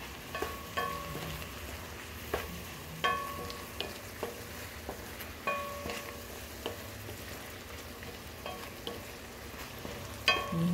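Ginisang sardinas cooks in a pan while a utensil stirs it, sending sharp, regular scrapes and clinks over a soft, constant sizzle, with no voices.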